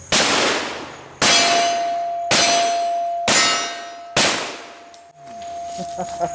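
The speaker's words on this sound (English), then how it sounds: "Colt Single Action Army. Let me fire just a couple more." Colt Single Action Army revolver fired outdoors at a range: five loud, sharp shots spaced about a second apart, each ringing out with a long decaying echo, followed by quieter ambient noise.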